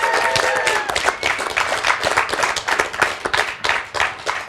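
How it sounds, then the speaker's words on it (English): A live talk show audience applauds a band taking the stage, brisk uneven clapping with a few brief whoops, moderately loud and close, lasting a few seconds. "A round of applause for the band, everybody, as they make their way up."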